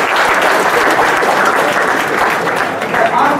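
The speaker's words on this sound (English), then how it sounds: "An applause for a wonderful answer." An audience at a corporate talk gives a round of applause after a good answer to a question, a loud, dense, sustained clapping from many hands that fills the room without a break.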